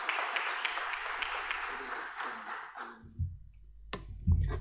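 Audience applause at a Tanzanian digital transformation conference welcoming the managing director of Simti Tech Limited, a broad wash of clapping that fades out after about three seconds into near quiet with a few low bumps.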